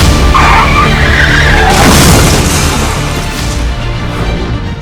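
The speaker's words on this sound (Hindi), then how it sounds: "एक बेकाबू ट्रक ने कई गाड़ियों को टक्कर मार दी" A speeding, out-of-control truck loaded with cement ploughs into several vehicles on a street, caught on CCTV: a loud, continuous roar of skidding and grinding impact with crashing bursts, dense and close, fading slightly toward the end.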